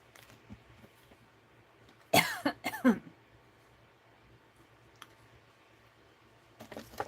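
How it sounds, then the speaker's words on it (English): A person coughs a few times in a quiet room, with a short cluster of harsh, close bursts in the middle and faint clicks around them. "Excuse me, I got a cough."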